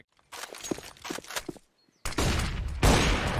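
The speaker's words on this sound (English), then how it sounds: "Mac-10 has just found neaLaN on the other side of the smoke" Mac-10 submachine gun fire during a CS:GO esports match, rapid close bursts of gunfire, then a brief silence followed by a sustained loud barrage of continuous shots.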